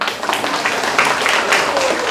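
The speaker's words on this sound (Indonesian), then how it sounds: "Untuk itu, tepuk tangan bagi" Youth Red Cross trainees at a training session clap for a performance of a national song, a loud, dense burst of many hands with a few brief voices mixed in.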